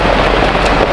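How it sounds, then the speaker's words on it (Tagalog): Heavy rain pours down in a dense, continuous hiss of drops hitting surfaces, loud and close, with no voices heard. "Ay, lakas ng ulan."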